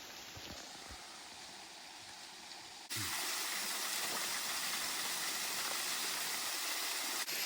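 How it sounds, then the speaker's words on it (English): Chute waterfall in Forillon National Park, Gaspé, Quebec: a constant broadband rush of falling water that grows noticeably louder partway through, steady and close, with no talking. "Man, what an incredible waterfall this is. So this is the Chute waterfall."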